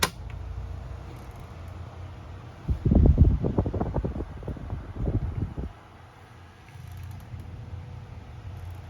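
Galaxy 12-inch oscillating fan, model 2150 with a riveted motor, on high speed: a low steady whirring hum swells into a louder rumbling gust midway, then settles back, close-up with no talk.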